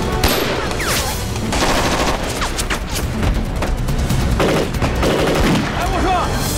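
Dense machine-gun and rifle fire rattles without pause through a village battle between guerrillas and Japanese troops in an anti-Japanese war film. The volleys are loud and continuous, with shouting voices mixed into the din.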